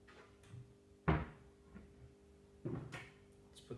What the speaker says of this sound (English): Let's see if the doors close